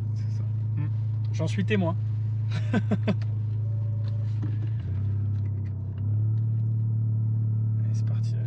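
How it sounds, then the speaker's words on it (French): A VW Golf 7 GTI Clubsport fitted with a custom full-tube exhaust idles with a deep, steady drone, heard from inside the car. People talk briefly over it before the engine note shifts and grows slightly louder. "Moteur, mon moment préféré."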